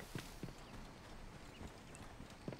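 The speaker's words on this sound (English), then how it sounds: "Hello, horse." Horse hooves in Assassin's Creed Origins, a few soft, irregular clip-clop hits over a faint ambient game background, quiet and close.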